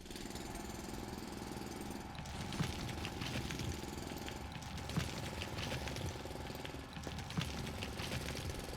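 Mining drill grinding through xenoferrite resource nodes in the factory-building video game Foundry, a steady rough mechanical rattle with a few louder bursts, running continuously without talk.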